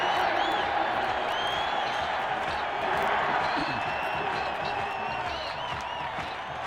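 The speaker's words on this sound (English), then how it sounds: "People, a little rhythmic applause here" Stadium crowd at a Dallas Cowboys at Phoenix Cardinals NFL game giving a steady wash of applause and cheering with scattered whoops, loud and continuous throughout.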